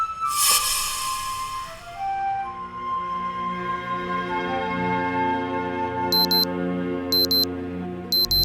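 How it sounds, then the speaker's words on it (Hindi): An alarm clock rings with a sustained electronic melodic tone that keeps sounding, joined near the end by short repeated high beeps in three bursts, fairly loud and with no voices. "ये तुम्हारा अलार्म भी ना बहुत ही अजीब है यार"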